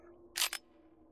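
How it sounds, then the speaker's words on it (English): Magazine dropping out of a gun in Hot Dogs, Horseshoes & Hand Grenades VR: a brief, crisp double click, faint and quick, over a low steady hum. "You have to dump the mag out."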